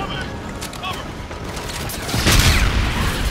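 Gunfire from the Infinite Warfare video game during a city-under-attack battle, a dense crackle of shots with a louder burst of impacts near the end, mixed with busy game noise and voices.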